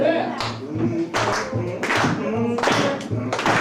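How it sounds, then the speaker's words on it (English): Audience clapping along at a live zydeco concert at KDHX's Focal Point, the claps in a steady beat beneath loud band music and a singer's voice. "I wanna see y'all just kind of clapping a little bit from right here"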